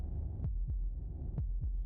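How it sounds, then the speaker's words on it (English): Heartbeat in the video game Slay the Princess, heard as soft, low thumps in two paired beats, lub-dub then lub-dub, over a quiet hum. "That was the sound of a heartbeat,"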